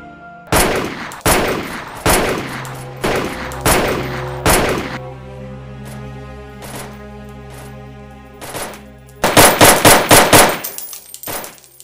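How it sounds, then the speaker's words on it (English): Gunfire in an animated film: loud, close bursts of rapid shots and volleys separated by short pauses, then a final dense fusillade, with metallic clangs mixed in. "They shot Niazi commissioner"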